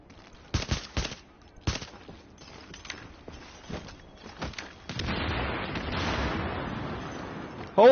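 Gunfire and grenade explosions in The Division crack as several sharp, separate shots, then turn into a sustained, rumbling burst of noise, with a sudden loud hit at the very end.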